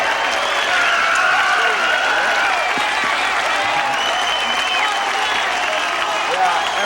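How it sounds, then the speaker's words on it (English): An audience gives loud, sustained applause and cheers that fill the room throughout, with voices faintly mixed into the crowd noise. "Give them a big round of applause."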